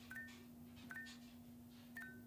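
An Apple Watch gives three short pairs of electronic beeps during a stretch timer, faint and evenly spaced over a steady low hum.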